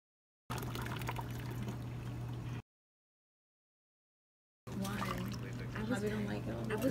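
Coffee being poured into a cup in a home kitchen, a steady close pour broken by a silent gap and then a second, more splashy pour.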